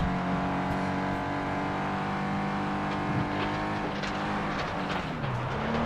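A race-class car engine in the PS2 game FlatOut 2 drones steadily at high revs throughout, its pitch wavering and dipping slightly as the car races on a rural track.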